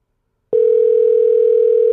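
A single steady telephone tone starts abruptly after a moment of silence and holds unbroken, loud and close, with no voices.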